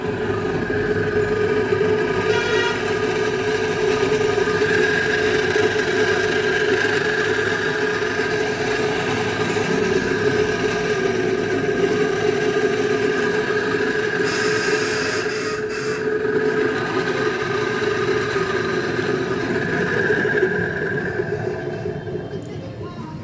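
Madhani electric motor running steadily after being rewired, a continuous mid-loud mechanical hum and rattle with a brief higher whine partway through, fading slightly at the end.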